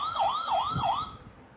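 A police car siren plays from a children's talking book. The electronic wail rises and falls in three quick sweeps, then cuts off.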